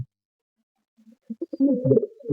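Golden-eyed Madda pigeons coo in a short, soft burst of low throaty calls that builds over about a second, close by with no voices.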